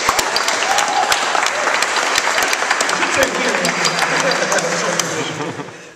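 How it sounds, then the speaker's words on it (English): Loud, dense applause from a keynote audience fills the whole stretch, steady and close, tapering off at the end as people begin to settle. "he deserves another round of applause."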